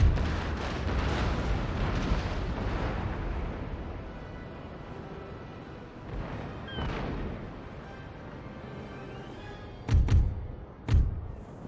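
Ship cannons firing during a naval battle in Empire: Total War, a thick rolling rumble of distant broadsides fading away, followed by two loud, close booms near the end.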